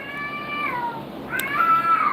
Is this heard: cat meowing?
yes